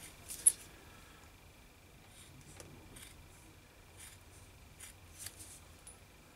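Scissors snip through material in a series of short crisp cuts, spaced irregularly, close and quiet, with no talking.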